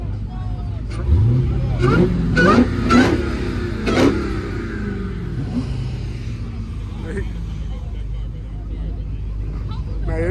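The supercharged engine of a Dodge Challenger Hellcat Redeye revs in several rising bursts at a car meet, loud and close, then settles to a rumbling idle while people talk nearby.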